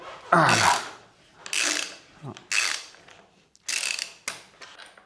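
A ratchet tool unscrews a handlebar end on a BMW F900 GS motorcycle in four close, sharp bursts of rapid clicking separated by short pauses.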